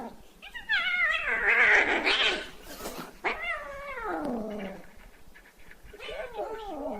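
An angry cat yowls and caterwauls in long, rising and falling wails, loud and close, with several drawn-out cries separated by brief pauses.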